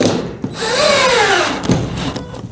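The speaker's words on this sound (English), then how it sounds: "this 12 volt driver just about the right pressure" A 12-volt cordless driver whirs up in pitch as it sinks a screw into shed roofing, then a short second burst follows, close and loud.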